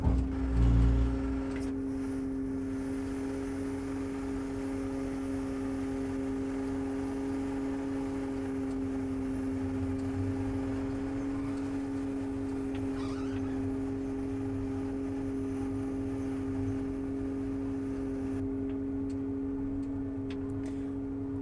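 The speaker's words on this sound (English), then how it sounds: "And the axles will start to adjust on their own after hitting the axle engage button on the right hand console." A Case IH 50 Series sprayer creeps along slowly while its axles adjust their width. A steady, moderate mechanical drone holds throughout with faint ticking, and no voices are heard.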